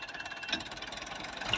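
A Massey Ferguson MF 240 tractor running with a rotavator attachment, its engine giving a faint, steady, rapid chugging throb with no speech.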